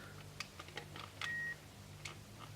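Faint short electronic beeps from a 1980s car phone keypad, several quick taps with one longer tone, over a quiet low hum.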